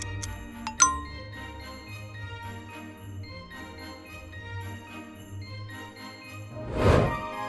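A bell jingles in a Christmas gift video game, a clear bright tinkle near the start, set over steady game music with another brief swell of chiming near the end.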